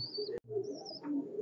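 Red-necked highflyer pigeons coo softly in a loft, a couple of short, gentle calls close by with a quick thump between them.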